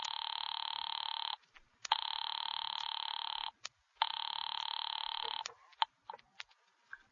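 An old-fashioned telephone bell rings in two long, loud trills, then a third, each separated by brief pauses, followed by scattered clicks and a faint short ring.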